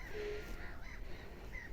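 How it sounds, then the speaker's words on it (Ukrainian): Faint bird cries, a few harsh calls from gulls by a lake shore, sound at a distance over quiet background noise. "Чайки кричать, не знаю, чи вам чутно чи ні."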